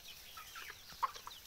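Free-range desi chickens on a small farm cluck faintly in a few soft, scattered calls, with no voices.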